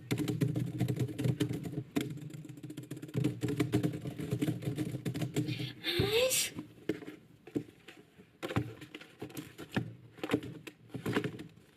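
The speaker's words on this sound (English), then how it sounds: "I can't sleep because there were typing noises." Soft, rapid keyboard clicking patters on continuously, close by, interrupted by a brief rustle and a few louder taps.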